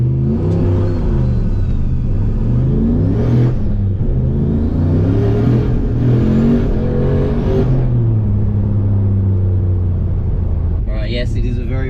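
An LS turbo Monaro CV8 accelerates hard, its engine rising in a strong, steady drone with shifting pitch and a dip between gears, heard from inside the car with talk underneath.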